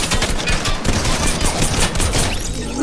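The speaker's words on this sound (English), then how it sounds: "I thought you were just gonna shoot us once." Fortnite gunfire fills the scene as a dense, loud burst of rapid in-game shots, continuous and close throughout.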